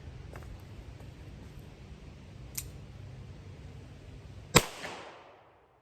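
A Smith & Wesson Model 15 revolver fires a single upper-end .38 Special handload, one sharp crack with a short ringing decay after a few faint clicks in a quiet setting.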